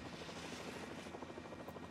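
A helicopter flies over the 2019 Wengen men's downhill ski race, its rotor making a faint, rapid, pulsing thump that repeats steadily in the distance.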